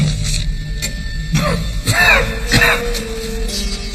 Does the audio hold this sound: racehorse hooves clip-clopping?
no